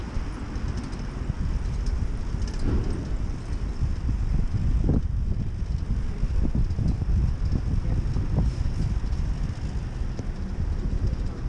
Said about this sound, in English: Oh, a lot of wind.